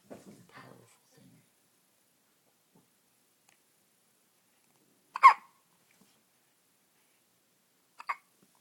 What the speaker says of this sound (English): Baby hiccups.